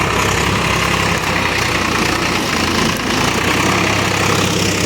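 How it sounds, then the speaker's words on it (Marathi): A tractor engine on a farm field, set up with a three-bottom reversible plough, runs with a loud, steady low rumble and constant vibration and no break throughout. "तर आता हे ट्रॅक्टर आलेला आहे,"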